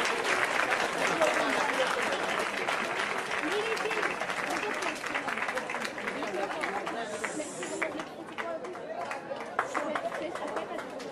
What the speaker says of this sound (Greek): Ευχαρίστω ένα μεγάλο χειροκρότημα